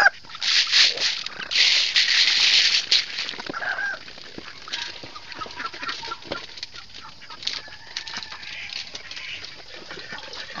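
Backyard farm with domestic ducks, loud bursts of quacking and squawking close by, followed by scattered softer calls and rustling movement.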